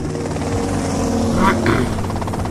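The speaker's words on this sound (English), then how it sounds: "Okay, that's them in the chopper." Helicopter flying in Grand Theft Auto Vice City, a steady loud rotor drone throughout with some brief higher game sounds partway.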